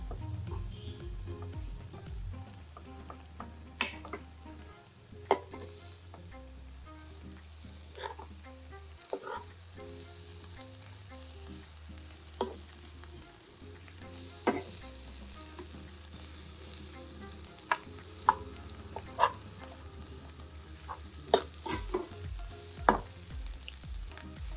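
Egg bhurji frying and sizzling steadily in a pan, with a spatula stirring and scraping at intervals, giving occasional sharp clicks over a low continuous sizzle; no talking.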